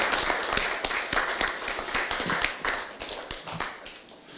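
Hand clapping from a room of attendees at a Democratic Party leadership and national committee meeting as a youth committee chair is introduced, steady scattered claps with sharp individual strikes, close and lively, tapering off near the end.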